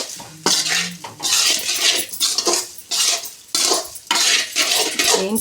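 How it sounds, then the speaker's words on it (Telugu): A metal spoon scrapes and clanks against a pan while gobi rice ingredients are stirred together, in repeated loud bursts with short pauses between strokes, and no talking. "బాగా కలుపుకోవాలి."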